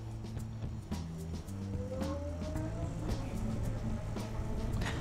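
An OKAI FlexMov EBF10 folding e-bike pulling away on throttle: a faint rising electric motor whine under steady road and wind noise, close, with no talk.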